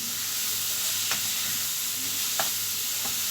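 Meat sizzles steadily in a hot pan, a soft continuous frying hiss broken by a few light clicks of stirring.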